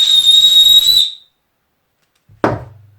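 An emergency bivy bag's drawstring whistle is blown once, a loud shrill tone lasting about a second. It cuts off into silence, then a brief clatter follows.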